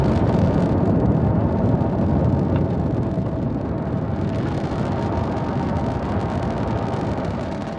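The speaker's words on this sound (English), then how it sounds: "Falcon 9 has successfully lifted off from Space Launch Complex 40 at Cape Canaveral Space Force Station" Falcon 9 rocket engines roaring during launch ascent from Space Launch Complex 40 at Cape Canaveral, a loud, steady broadband rumble that fades slightly as the vehicle climbs, with no voices.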